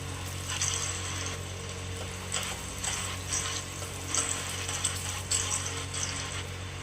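Onions and other pieces frying in a pan of hot oil, a soft continuous sizzle with bursts of crackling as they are stirred and turned, fairly quiet and close, with no talking.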